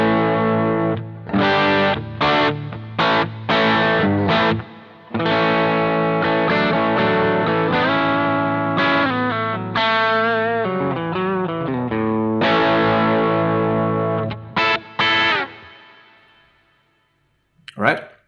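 An electric guitar plays distorted chords and riffs through a Boss GT-1000CORE boutique preamp model, ringing out loud and close, then fading to silence at the end.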